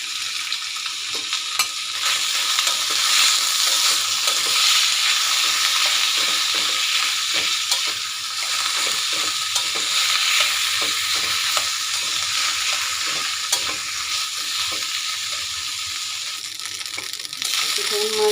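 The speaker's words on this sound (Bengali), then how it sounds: "তেল দিয়ে ভালো করে ভেজে নেব।" Deboned taki fish sizzles in hot oil in a pan, a steady bright hiss throughout with intermittent scraping and stirring clicks, no talking.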